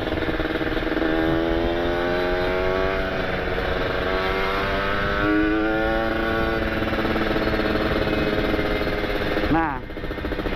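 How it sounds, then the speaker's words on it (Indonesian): A Kawasaki Ninja RR engine with an ABRT20 aftermarket exhaust revs steadily with a low, throaty rumble, rising and falling in pitch, loud and close, then briefly dropping off near the end. "ini knalpot santuy suaranya"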